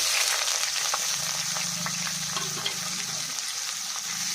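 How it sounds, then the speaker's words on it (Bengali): Chopped onions frying in oil, after cumin, cardamom and cloves have been tempered, sizzle steadily with soft crackles and a low constant hiss, close and even throughout. "পেঁয়াজটা একটু লাল লাল করে ভেজে"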